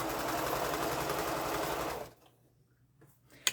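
Sewing machine stitching curved quilt block seams, a steady close whirring run for about two seconds that then stops, followed by a quiet pause and a brief click at the end.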